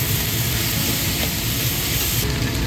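Diced chicken and potatoes stir-fry in a wok for curry puff filling, giving a loud, steady sizzling hiss with a faint scraping underneath, continuous and close, with no talk.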